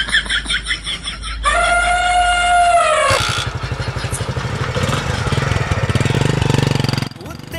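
A motorbike engine idles with a steady, close, throbbing pulse for the second half, after a stretch of bright, tonal vocal-like sounds at the start.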